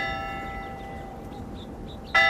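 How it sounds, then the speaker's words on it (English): Church bell in a radio drama, a single loud strike arriving at the very end after quiet background tones. "The bell is late again."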